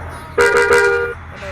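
Bus horn in the Bus Simulator India video game giving one loud, sustained, slightly wavering honk of under a second, with faint background hum around it.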